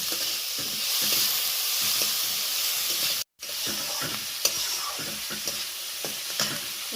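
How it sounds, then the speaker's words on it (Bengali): Chopped tomato, green chili and onion are stirred in a hot frying pan, with a steady close sizzle and repeated scraping stirs, interrupted by a brief gap. "টমেটো কুচি, কাঁচা লঙ্কা আর পেঁয়াজ ভালো করে নাড়াচাড়া করে নেব।"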